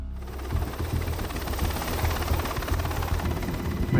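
A helicopter flying south toward the border produces a steady, loud rotor chop and broadband engine roar, heard continuously from inside the cabin.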